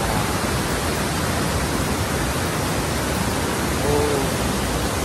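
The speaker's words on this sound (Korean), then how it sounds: "물소리 들어보세요." A rain-swollen stream rushes through a mountain valley near a campsite, a loud, unbroken broadband roar of flowing water, close and steady with no talk.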